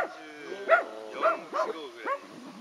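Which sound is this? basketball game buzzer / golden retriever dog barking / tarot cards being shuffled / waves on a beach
golden retriever dog barking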